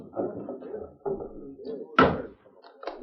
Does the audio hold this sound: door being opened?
yes